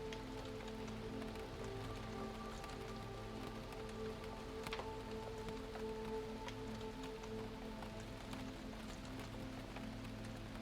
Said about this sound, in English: The distant rain pattering against the windows